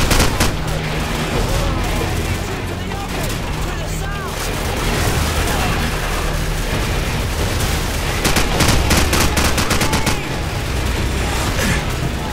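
Machine gun fire in the video game Call of Duty 4, with a tank nearby: loud, sustained automatic bursts and booming impacts running the whole way through, with dense rattling clusters near the end and brief voices mixed in.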